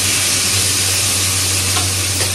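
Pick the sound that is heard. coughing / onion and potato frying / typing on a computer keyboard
onion and potato frying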